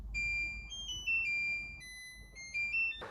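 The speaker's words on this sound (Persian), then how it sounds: "یا این ماشین لباسشویی تهرونیه" A washing machine plays its end-of-cycle melody as a series of clean electronic beeps at changing pitches. The tones are moderately loud over a low hum, and a brief louder noise comes at the end.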